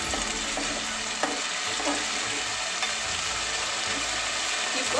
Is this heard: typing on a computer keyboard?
no